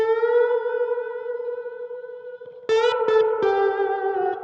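Electric guitar played through a Supro Montauk amplifier with its reverb on: a sustained chord rings out and decays in a washy tail, then a few sharp strums follow, drenched in reverb, with no voices.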